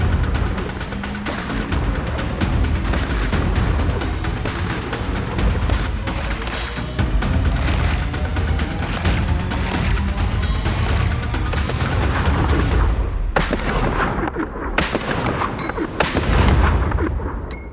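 A pistol fitted with a Vortex Defender XL red dot sight is fired at an outdoor shooting range. Loud, sharp shots come in quick succession with echoing reports, sometimes overlapping other shooters' fire, and there is no talking.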